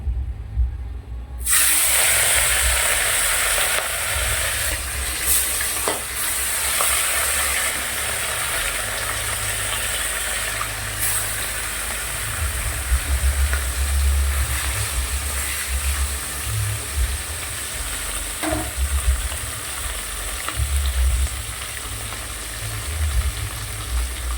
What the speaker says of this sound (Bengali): এদিকে তেল গরম হয়ে গেছে, এবার মাছটা ভেজে নেব